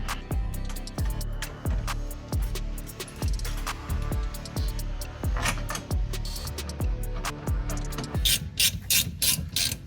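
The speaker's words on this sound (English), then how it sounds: "what Tyler's actually tightening into right now is the these little 1/4-20 guys into the inserts up here" A hand ratchet tightens 1/4-20 bolts into inserts while fitting a 7075-T6 aluminum belly skid plate under a Jeep JL/JT, giving a steady run of close, rhythmic clicking strokes with a few brighter metallic clatters near the end.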